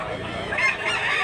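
A two-year-old Sweater-bloodline gamecock rooster calls in a brief, loud, raspy burst close by, with a busy outdoor background.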